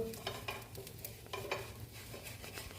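Ragi dosa on a hot pan being flipped, a soft steady sizzle with scattered scraping and clinking taps of a spatula against the pan, quiet and close.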